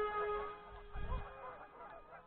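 Geese honking at a public flying field, a couple of low, faint honks over a quiet steady background hum, distant and brief.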